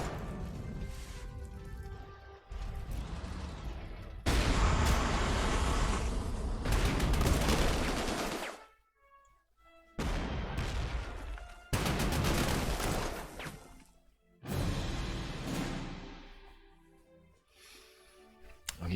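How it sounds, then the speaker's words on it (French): Artillery fire in a WWII war video game set at El Alamein: long bursts of heavy booming and crackling explosions separated by short lulls, fairly loud and continuous within each burst, with no talking. "Il y a quand même pas mal d'artillerie"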